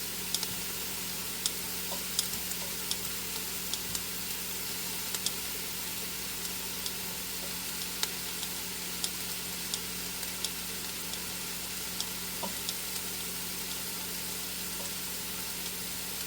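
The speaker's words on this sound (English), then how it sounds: "I always saute the onions a little bit, and then I put the Kielbasa sausage in, and I saute it with the onions." Onions and kielbasa sausage sautéing together in a pan for a cabbage supper, giving a steady, fairly quiet sizzle with faint scattered ticks and crackles throughout and no talking.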